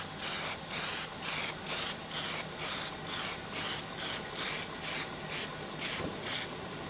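Short rhythmic bursts from a spray paint can laying a final light coat over a 2006 Mustang GT emblem, about a dozen evenly spaced hissing sprays, close and alone.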